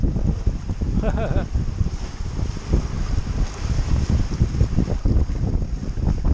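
Steady wind gusts roar over the microphone aboard a sailboat sailing solo from Marseille toward Ibiza under a gennaker in 11 to 12 knot winds, with a low rushing rumble of water against the hull throughout.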